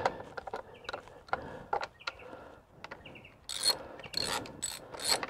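A ratchet clicks in short bursts as the engine covers come off a Honda CB125F motorcycle during a valve adjustment, with quieter spells between the bursts and brighter, louder ratcheting toward the end.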